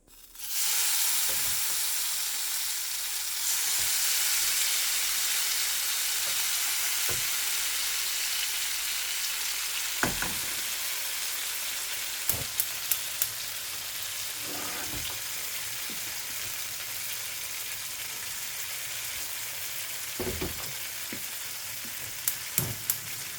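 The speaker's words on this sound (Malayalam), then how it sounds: "നമുക്ക് കുറച്ച് കടുക് പൊട്ടിച്ച്" Mustard seeds crackle and splutter in hot oil, a steady loud sizzle broken by sharp pops that grow more frequent toward the end, with no talking.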